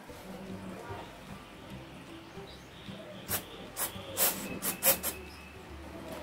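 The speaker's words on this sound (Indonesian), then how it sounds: "Dan untuk yang ininya nih juga kita semprot." Cleaner spray being applied to a five-year-old Logitech G29 racing wheel pedal, a series of short hissing bursts in the second half, quick and close, after a quieter stretch.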